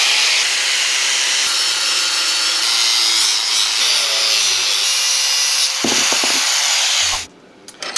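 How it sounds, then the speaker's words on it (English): A power cutoff wheel grinds steadily through the box end of a huge steel wrench, a loud continuous abrasive whine that shifts in pitch, then stops abruptly near the end. "I'm going to try to get all my cuts done with the cutoff wheel before I switch over to the grinding wheel"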